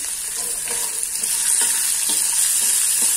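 Onion and tomato sizzle in a pan for poha while being stirred, a loud steady frying hiss with soft scraping strokes of the spatula recurring throughout.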